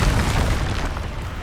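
Bombarda blasting spell in Hogwarts Legacy, a short, heavy explosive boom with a deep low-end thump that fills the moment and tails off quickly.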